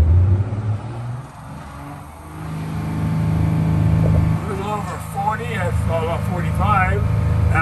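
Detroit Diesel engine of a 40-foot Crown bus idling steadily, a low continuous rumble throughout with people talking over it.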